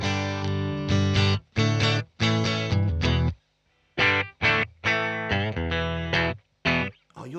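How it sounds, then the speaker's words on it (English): A clean electric guitar played through a Wazza tube amp with a touch of reverb, strummed in bright chordal bursts separated by short pauses, loud and close with no talking. "this is the clean tones. We're just going into the Astoria through the Wazza tube amp. It's got a bit of reverb on it."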